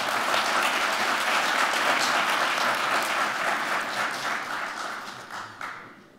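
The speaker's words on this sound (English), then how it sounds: "Let's give them one more round of applause." A city hall audience at a State of the City 2022 address gives a sustained round of applause, dense clapping at steady volume for most of the stretch before thinning out and fading near the end.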